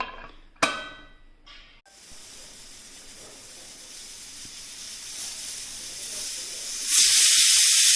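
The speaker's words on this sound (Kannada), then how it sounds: "ಮುಚ್ಚಳ ಮುಚ್ಚಿ 3ರಿಂದ 4 ವಿಸಿಲ್ ಮಾಡ್ಕೊಳ್ತೇನೆ" A pressure cooker on a gas stove at full flame, cooking vegetable bread pulao, hisses steadily after a sharp knock, the steam growing louder and rising into a bright, forceful rush near the end.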